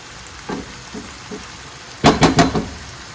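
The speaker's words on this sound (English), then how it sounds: "the onion is also starting to saute" Chicken pieces browning with onion in a hot pan: a few soft taps, then a short burst of loud scraping and sizzling stirs near the end.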